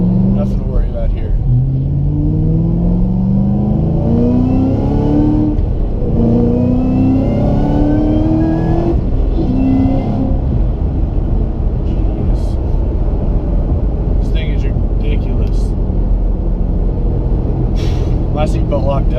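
A 700-horsepower Ford Mustang GT500 revs hard through third gear, the engine note climbing loudly in steady sweeps with brief dips between pulls, heard from inside the car.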